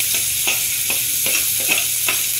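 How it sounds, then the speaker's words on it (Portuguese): Steady sizzling hiss of chopped onion frying in a pan, with a few soft stirring scrapes recurring every half second or so; no voices. "vou dar uma mexidinha e vou deixar aqui fritando"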